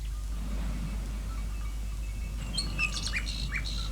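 Bright, warbling nightingale song rises over a constant low hum, with short chirps and trills clustered near the end and carrying faintly from a short distance, with no voices present.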